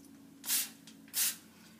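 Two short, close hissing bursts from an aerosol cooking spray, separated by a brief pause, in an otherwise quiet room.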